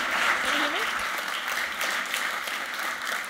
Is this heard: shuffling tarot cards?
no